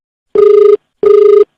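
Two loud, close telephone rings, each a short buzzing trill of about half a second, are separated by a brief gap of silence.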